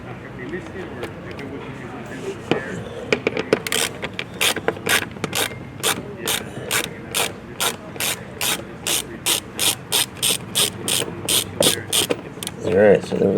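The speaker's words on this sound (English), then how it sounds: "They're 10 millimeter heads on them, so you're just going to spin these out." A hand ratchet spins out 10 mm factory screws on a 2024-2025 BMW 840i M-Sport, a close, fast train of evenly spaced clicks in bursts, with a voice talking quietly underneath.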